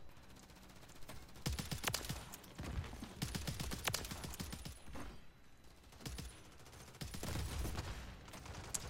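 Rapid bursts of gunfire from the DTIR 30-06 rifle in an online shooter match on the Shipment map, sharp shots crackling in clusters throughout with busy game noise between them.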